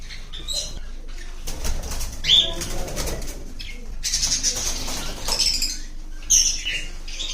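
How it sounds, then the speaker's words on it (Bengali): Several bursts of flapping wings flutter nearby amid pigeon coos and scattered chirps from a busy, close flock of high-mutation pet birds for sale. "অনেক পাখি আছে"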